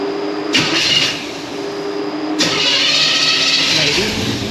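A Chevelle V8 fitted with an Edelbrock carburetor cranks and catches, with two loud bursts of engine noise close by over a steady background hum.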